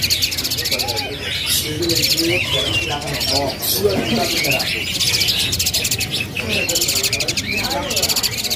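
Caged songbirds offered for sale chirp and trill busily in rapid, overlapping bursts close by, as people chat in Indonesian beneath the birdsong.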